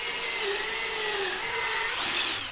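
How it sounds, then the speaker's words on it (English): A power drill boring a 1/4-inch hole into a faux-wood beam rail, a steady high whine held for a couple of seconds before trailing off at the end, nearby and uninterrupted. "Then drill a 1/4-inch hole on the marked spots."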